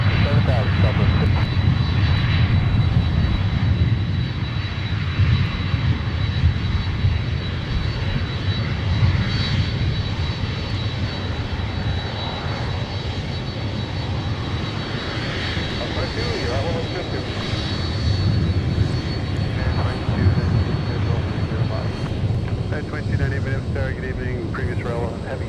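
A fixed-wing airplane roars steadily down runway 30 Left at Minneapolis–St. Paul airport during takeoff, a continuous broad jet-engine rumble that holds loud and even throughout, with a faint tone running beneath it.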